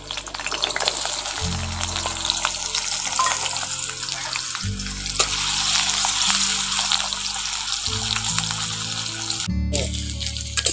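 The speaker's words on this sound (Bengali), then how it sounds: "এবার তেলটা গরম হয়ে গেছে আলুটা দিয়ে দিচ্ছি" Potatoes sizzle and crackle steadily in hot oil, a continuous frying hiss with a low hum underneath.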